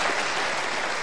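Brief burst of steady, full-bodied clapping from a TV talk show studio audience, loud and sustained across the whole moment with no voices on top.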